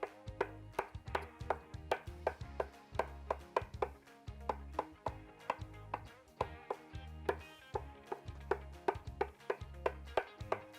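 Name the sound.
knife chopping hard-boiled eggs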